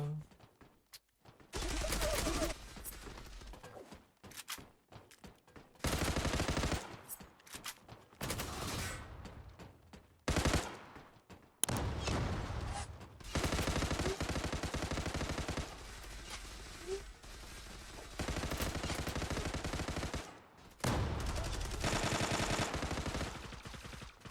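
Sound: gunfire from a video game

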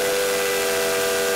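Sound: three-chime steam whistle of a tank engine

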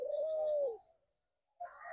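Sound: dove cooing in breeding cage

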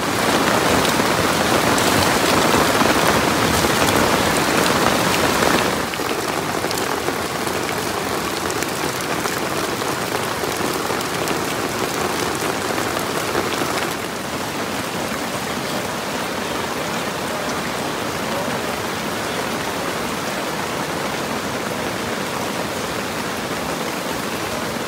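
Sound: rain falling during flood season

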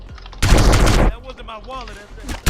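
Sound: gunshots fired into the air in a video game

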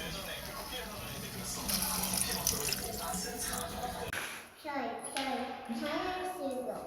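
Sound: pouring water into a cooking pan

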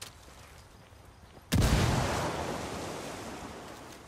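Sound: frag grenade explosion in video game Ghost Recon

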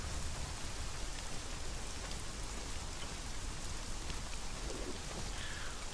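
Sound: rain in the video game Conan Exiles

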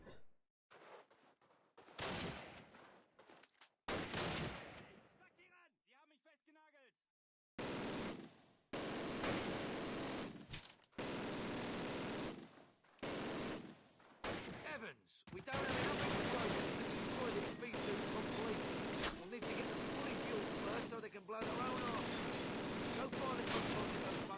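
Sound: gunfire in the video game Call of Duty

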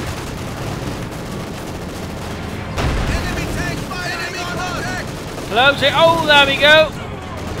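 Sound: machine gun firing at field gun crew in Company of Heroes 2 video game

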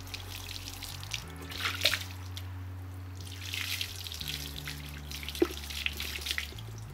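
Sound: water poured from a cup to rinse vinegar off a trailer hitch

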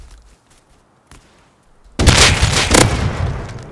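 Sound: pipe shotgun gunfire in the video game Rust

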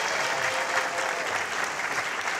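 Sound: audience applause for a talk show guest

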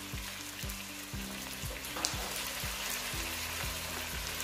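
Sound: onion and garlic sautéing in a pan with tomato paste

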